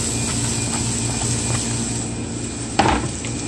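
Chopped celery hitting a hot pan, a steady crackling sizzle under a low kitchen hum, with a brief louder clatter near the end.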